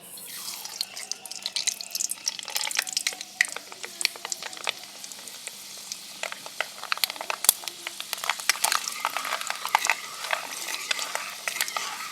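Fenugreek seeds hitting hot oil for homemade amla hair oil, a bright crackling sizzle that flares and settles, with scattered pops and light utensil scrapes, close and steady, no voices.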